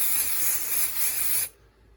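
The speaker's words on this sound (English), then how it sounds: "and we're going to use our spray adhesive." Spray adhesive hisses from an aerosol can onto fabric for machine embroidery applique, a steady close bright spray lasting about a second and a half before cutting off sharply.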